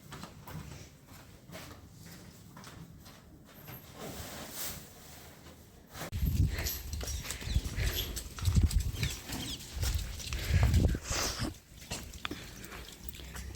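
Cow hooves clop and shuffle on the ground as several cows move past in the rain, getting louder midway, with faint background noise throughout.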